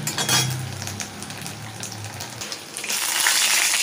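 Whole cardamom, cloves and cinnamon dropped into hot oil for a vegetarian dish, crackling and sizzling steadily up close, with light clatter of a utensil against the pan and a brighter burst of frying toward the end.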